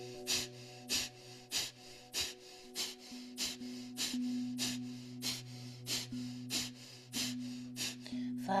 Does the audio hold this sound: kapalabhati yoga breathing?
yes